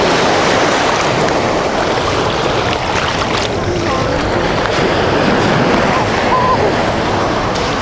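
Incoming tide on a UK beach at Bournemouth, with steady washing surf and wind buffeting the microphone in a constant loud roar, no clear individual breakers.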